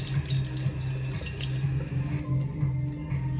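Warm water runs steadily from a tap in a restaurant washroom, a constant close splashing stream with no talking over it.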